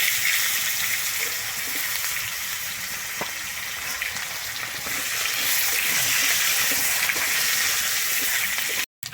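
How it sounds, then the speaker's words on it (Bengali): Potatoes fry in oil with a continuous, even hiss that holds steady and close for the whole stretch, broken only by a brief dropout near the end, with no talking. "আমি এরপরে ভেজে নিচ্ছি এখানে আলুগুলো"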